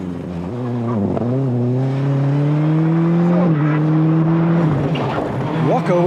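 A rally car at speed on a dry stage, engine revving up and down through gear changes with loud rising whines, while a commentator talks over it.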